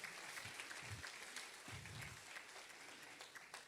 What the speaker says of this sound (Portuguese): Você aplaude a Deus por isso.